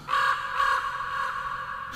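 A raven cawing in a Turkish reading of Edgar Allan Poe's poem The Raven, a single drawn-out harsh call lasting nearly two seconds, fairly loud and close, with no voice over it.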